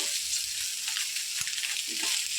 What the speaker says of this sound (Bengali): মাছটা একটু ভালো করে ভেজে নিয়েছি